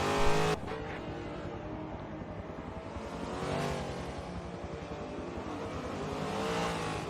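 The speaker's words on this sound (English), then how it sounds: "And now we can hear the A-Class cars again, apparently." A-Class race cars in the Forza racing video game, a continuous engine roar with shifting revs and a brief louder burst at the start, steady and fairly close, with no talking.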